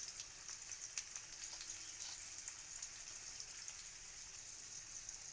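Dried red chilli frying in a pan, a faint steady crackle and sizzle with light popping, no voices over it.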